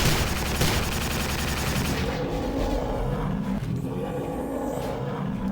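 Rapid bursts of gunfire in the video game Prey (2006) crackle loudly at first, then give way to rumbling explosions and scattered shots, dense and continuous.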